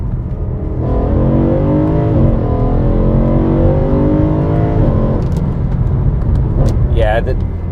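A BMW E92 M3 with a Stage 2 tune, decats and an Eventuri carbon plenum revs hard, its engine note rising and holding before dropping off, with a voice speaking and a brief chirp near the end.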